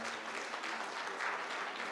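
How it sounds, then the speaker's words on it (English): Audience applause at a book launch, a steady dense wash of clapping from a crowd filling the room, moderately loud and continuous with no pause. "We should all give a big round of applause."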